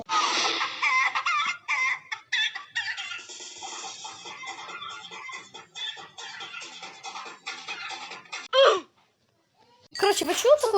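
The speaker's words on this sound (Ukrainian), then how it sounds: "Курчатко!" Chickens cluck and chatter in a busy, bright flurry in a Minecraft-style video game, with a voice exclaiming and laughter mixed in, then a short pause before more clucking.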